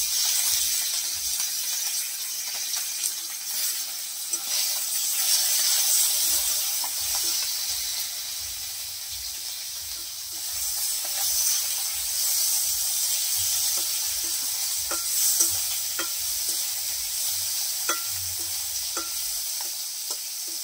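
Cut potatoes sizzle and fry in a hot pan for a sour curry of small river fish, a steady crackling hiss punctuated by repeated scraping stirs.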